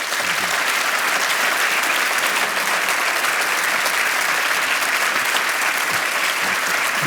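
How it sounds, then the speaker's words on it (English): Loud, dense applause from a large audience in a theatre after a panel on media freedom, a constant roar of many hands clapping close to the microphone without a break. "And this is your applause for Alexandra Borchardt, Marton Gergely, and"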